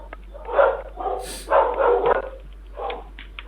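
A dog barks in a series of about six sharp, mid-distance barks with short gaps, caught by a doorbell camera at night, with no talk over it.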